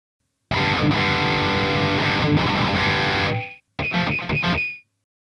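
A heavily distorted electric guitar through a Tokyo Drive pedal and Peavey JSX amp plays loud sustained chords for about three seconds, breaks off briefly, then returns with a few choppy stabs before cutting out.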